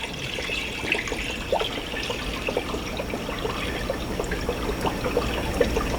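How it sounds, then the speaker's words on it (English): Water trickles and pours steadily into a guppy fish tank set up with driftwood, a continuous close splashing dribble with small bubbling pops throughout, no voices. "He's going to add more water to it so we can get that sponge filter going."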